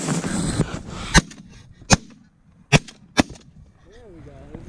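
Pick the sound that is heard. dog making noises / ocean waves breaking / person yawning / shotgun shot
shotgun shot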